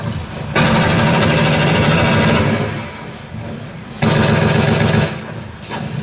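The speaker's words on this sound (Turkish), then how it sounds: "Peşi sıra mitralyözler tıkırlamaya başladı." Machine guns rattle in a Gallipoli trench battle reenactment at Arıburnu, with two loud sustained bursts of rapid fire separated by a quieter pause, close and dense.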